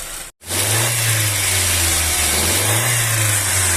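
Chevrolet Cobalt 1.8 engine running steadily up close, a continuous loud mechanical drone with a timing belt slapping inside its cover, heard alone without talk.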